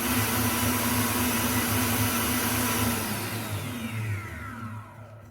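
A food processor whirs steadily as it beats sugar into a chocolate ice cream base, a loud continuous motor drone that holds for a few seconds and then eases off slightly toward the end, with no talking.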